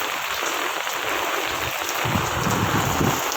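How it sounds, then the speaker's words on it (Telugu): Heavy rain pours down steadily on a rooftop, a dense hiss of drops with a patter on surfaces that grows louder toward the end, no voices. "చూడండి బాగా పడుతుంది వర్షం."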